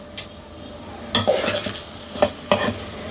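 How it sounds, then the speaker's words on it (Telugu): Fried urad dal vadiyalu being stirred into a pot of egg pulusu, with a few distinct clinks and scrapes of a spoon against the vessel over a soft background hiss, no talking. "వేసుకుని ఒకసారి కలుపుకోవాలి"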